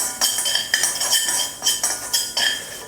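Fennel, cinnamon, clove and cardamom dry-roast in a pan, stirred so that quick metallic clinks and scrapes of utensil on pan come in an uneven rhythm, close and fairly loud.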